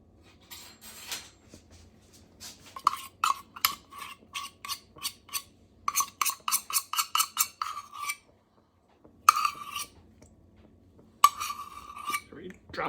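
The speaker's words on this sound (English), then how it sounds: "Going to add the peanut butter." Spoon clinking against a stew pot while peanut butter goes into a vegan African peanut stew: runs of bright, rhythmic metallic taps in quick succession, pausing, then a few more scraping clinks.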